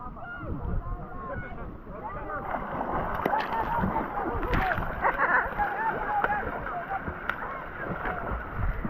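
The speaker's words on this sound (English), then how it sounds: "Why are you splashing?" Water splashes and sloshes continuously close by at a beach in Mombasa, with people talking and calling out over the churning.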